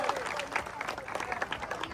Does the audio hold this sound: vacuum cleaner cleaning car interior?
no